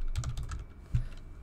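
A short run of a few keystrokes on a computer keyboard while entering a command in Windows 10, close-up and unaccompanied by talk.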